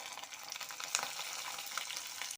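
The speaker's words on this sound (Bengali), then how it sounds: "আলুগুলো দিয়ে আমি একটু ভাজা ভাজা করে নেব।" Potatoes and slit green chillies fry in hot oil in a pan, a steady close-up sizzle with a couple of brief stirring clinks and no talking.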